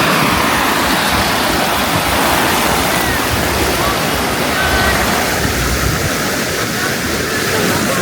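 Ocean waves on Driftwood Beach, Jekyll Island, Georgia, a loud, steady wash of surf and wind that fills the scene without a break.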